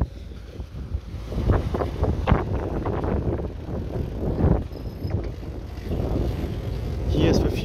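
Wind buffets a sailboat out on the water during an offshore sailing regatta off Cyprus, roaring and gusting against the microphone in uneven surges that swell and fade, with a voice briefly heard underneath.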